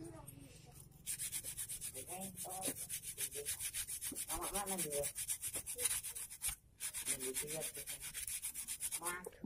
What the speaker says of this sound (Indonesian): cukup dibersihkan pakai amplas tipis-tipis saja